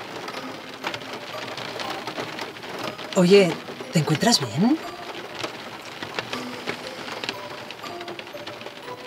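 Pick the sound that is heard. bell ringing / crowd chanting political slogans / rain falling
rain falling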